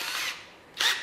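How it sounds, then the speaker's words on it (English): A step drill bores a hole in two short, close whirring bursts separated by a brief dip. "I use a step drill"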